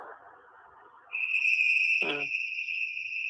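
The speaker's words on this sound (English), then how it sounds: "You cannot throw stones at the crickets for them to be quiet." Cricket chirping rises as a steady, shrill continuous trill, loud and close, following a short muffled murmur.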